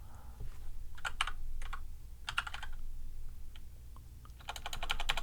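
Typing on a computer keyboard to enter a Command F search shortcut: a few clusters of quick, close key clicks with short pauses between bursts, over a low steady room hum.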